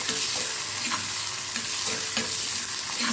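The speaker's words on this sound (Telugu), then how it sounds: "తర్వాత ఉల్లిపాయ ముక్కలు, పచ్చిమిరపకాయ ముక్కలు వేసేస్తాం. వేసేసి అది బాగా వేగుతూ ఉన్నప్పుడు" Onion and green chilli pieces fry in hot oil with cumin seasoning in a pan, a loud continuous sizzle with occasional stirring scrapes, no voices.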